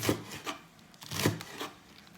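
A knife slices ingredients very thinly for homemade ramen, giving a few soft, rhythmic cutting strokes against a board, close and quiet with no talking.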